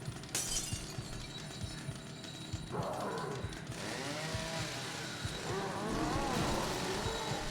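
A chainsaw revs in the video game Doom, a harsh buzzing roar that rises and falls over several seconds amid crashing, shattering game effects, with no talking.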